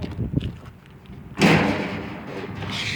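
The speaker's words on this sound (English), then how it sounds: "Let me open that door a little" A dumpster door is pulled open with a sudden scraping thud after quiet rustling, followed by a sustained metallic rumble and hiss as it swings.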